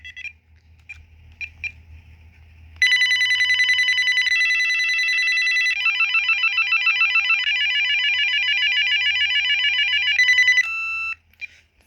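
A VTech SLE2218 cordless phone ringing loudly up close, a few short chirps followed by a long electronic warbling ringer pattern that shifts tones before stopping abruptly.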